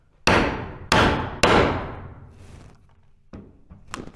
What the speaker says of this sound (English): Heavy hammer comes very handy here.